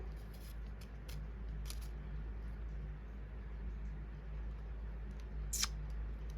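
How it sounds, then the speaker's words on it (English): Scissors cutting out paper flowers. A handful of soft, crisp snips are spaced apart over a quiet, low background hum, with no voices. "So basically I'm cutting everything going in one direction"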